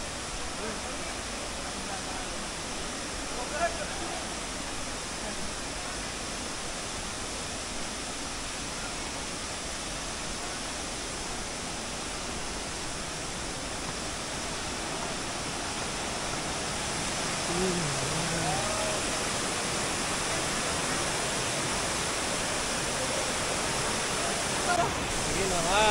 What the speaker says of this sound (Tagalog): Eh naman, ang daming falls.